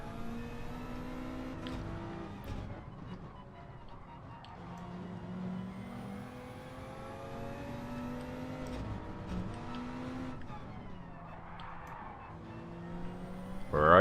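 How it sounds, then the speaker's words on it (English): A Toyota Supra race car in Gran Turismo 7 drives past, its engine a steady, moderately loud whine that shifts pitch through the pass, layered over other race cars' continuous engine drone. "The Supra's going past."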